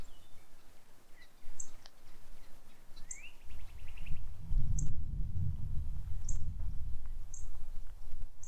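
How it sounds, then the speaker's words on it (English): Wild birds at Goliad State Park in Texas call in brief, high chirps and short trills scattered through the scene, fairly faint, over a low rumbling handling or wind noise that swells partway through. "Hopefully the camera will pick it up, but the birds out here are beautiful."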